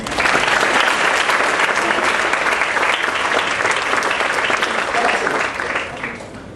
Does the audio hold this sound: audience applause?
yes